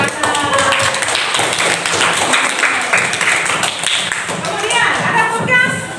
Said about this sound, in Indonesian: mantap semua, tepuk tangan